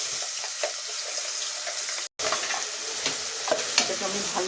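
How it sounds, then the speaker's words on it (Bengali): Onion paste frying in hot oil in a wok, a steady close sizzle with stirring scrapes and a brief cutout partway through, no voices. "আমি একটা কড়াইতে তেল দিয়ে নিয়েছি, এখন আমি একটু পেঁয়াজের পেস্ট দিচ্ছি।"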